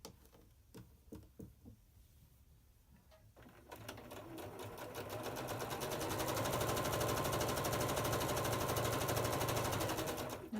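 A sewing machine chain pieces pre-trimmed quilt fabric for an hourglass block, starting with a few quiet handling clicks before the motor kicks in and runs steadily at close range, a fast rhythmic stitching hum that continues to the end.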